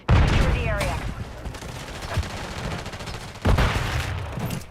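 Call of Duty: Warzone gunfire, bursts of automatic fire cracking close and loud, with a louder volley near the end, mixed with game voice callouts.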